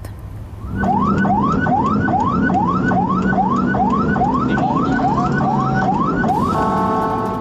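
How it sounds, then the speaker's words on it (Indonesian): A loud, close ambulance siren from a community health center ambulance in Cisoka, Banten, Indonesia, wails in a steady rising-and-falling cycle, repeating about a dozen times over continuous traffic noise. "Supir ambulans Puskesmas Cisoka ini sudah membunyikan sirene dan klakson berkali-kali."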